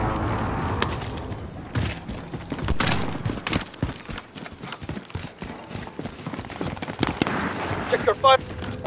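Gunfire in a video game comes as scattered sharp shots and thumps, some in quick clusters and some spaced apart. Game sounds and a few voices mix in.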